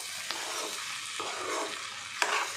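Ground coriander and cumin spices being stirred as they fry in a pan, a steady close sizzle broken by a few sharp scraping strokes of the spoon, with no talking.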